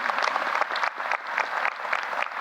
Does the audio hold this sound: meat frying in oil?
no